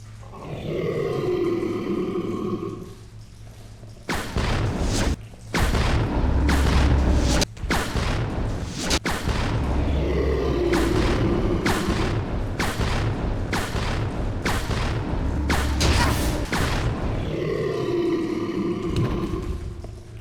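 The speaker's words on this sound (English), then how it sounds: "I'm gonna test the grenade launcher just like my last showcase of this game, also on the Proto Tyrant." A grenade launcher fires regular grenade rounds at the Proto Tyrant in the video game Resident Evil Zero, loud booming shots and blasts repeating in bursts, along with monster roars and grunts in between.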